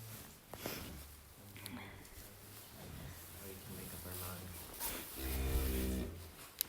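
Cattle on a farm with calves penned nearby give several low, drawn-out moos at close to middle distance, a loud call near the end, with speech and barn noise around them.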